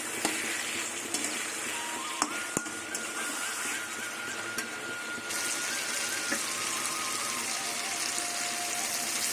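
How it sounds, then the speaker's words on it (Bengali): Water goes into a hot pan of hilsa fish and eggplant, giving a soft hiss and sizzle with faint stirring and small clinks, quiet and close. "এবার জল দিয়ে দেবো"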